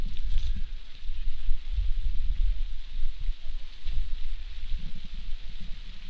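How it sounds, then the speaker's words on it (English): Heavy rain falling during a college baseball game, a steady hiss of rain on the surface with low rumbling bumps underneath, fairly loud and continuous with no voices. "it's raining pretty good now"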